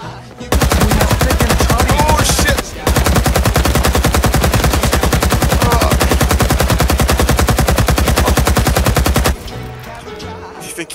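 Sustained machine gun fire in the Vietnam War shooter Rising Storm 2: Vietnam: a loud, rapid, unbroken stream of shots lasting about nine seconds, with one brief pause early on, then fading to quieter ambient battle noise.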